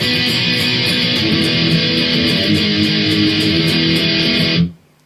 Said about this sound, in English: Lots of power chords. It'll sound like this then.